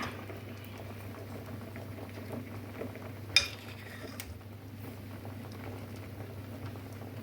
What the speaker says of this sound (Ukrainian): Тепер нехай вони прокиплять хвилин Три, чотири